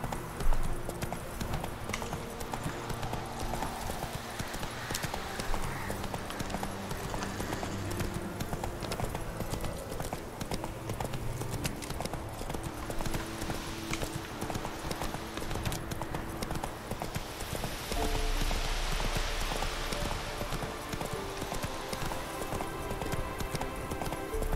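Hooves clip-clop at a steady riding rhythm as a horse is ridden in The Witcher 3, with the fairly quiet beats carrying on without a break over a busy game soundscape.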